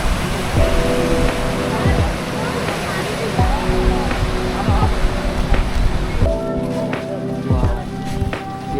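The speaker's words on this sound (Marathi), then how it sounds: "समुद्र बघ ना किती जबरदस्त आहे" Ocean waves and surf wash continuously at Kanyakumari, forming a broad, steady roar beneath frequent close voices of people talking.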